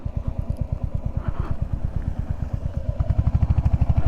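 A Royal Enfield Hunter 350 motorcycle making a slow U-turn near a crowded market, its single-cylinder engine thumping in a loud, close, steady rhythmic pulse throughout.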